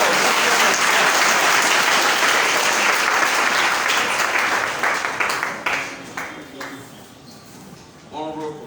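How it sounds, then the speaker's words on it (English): A crowd applauds loudly and steadily, the clapping thinning out and fading toward the end as a voice begins speaking. "So you have to clap more than that."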